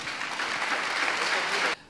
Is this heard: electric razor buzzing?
no